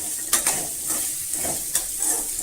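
Finely sliced radish sautés in a hot pan for a spicy chutney, giving a close, loud sizzle broken by repeated scraping strokes of a spoon stirring.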